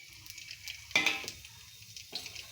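Whole spices—bay leaf, cumin seeds, dried red chillies, cardamom, cloves and cinnamon—hit hot oil for tempering, a soft steady sizzle with a sharper crackling burst near the middle and another toward the end, close by with no talk.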